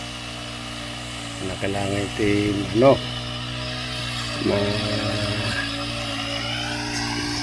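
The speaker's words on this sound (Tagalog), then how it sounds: "nagpapa-grass cutter tayo ngayon" A grass cutter's motor hums steadily while clearing weeds in a vegetable garden, a continuous engine buzz that rises in a few brief revving surges, with people talking over it.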